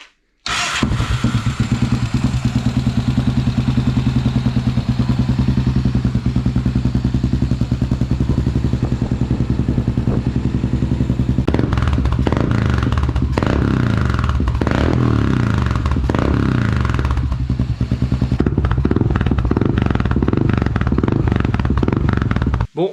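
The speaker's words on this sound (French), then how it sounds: "Bon, voilà, le Dominator démarre." A Dominator scrambler motorcycle engine starts and runs loud and close, a steady rumbling idle with rhythmic throbbing, then revs and clattering bursts in the second half before cutting off at the end.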